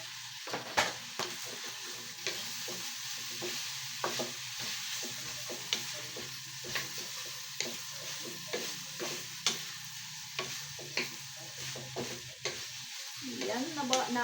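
Onion and garlic fry in a pan with a soft background sizzle, while a utensil scrapes and taps in regular stirring strokes roughly every second, close and fairly quiet.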